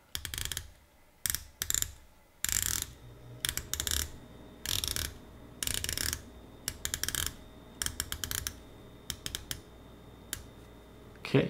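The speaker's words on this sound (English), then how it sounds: "The bezel here is 120 clicks." The 120-click unidirectional bezel of a Christopher Ward C60 Trident Pro 600 dive watch is turned in quick bursts of crisp, notchy ratcheting clicks, close and separated by short silences.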